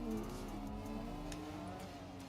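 A BMW E36 engine revs hard at a street drift event, a loud, raspy rising-and-falling drone with traffic-like rumble underneath and no speech.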